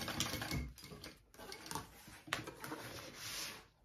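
A sewing machine top-stitches through several thick layers of vinyl on an Elora backpack, making a quiet, close, continuous mechanical rattle with a few brief louder knocks.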